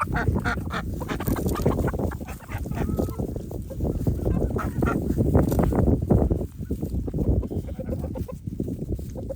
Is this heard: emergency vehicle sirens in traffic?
no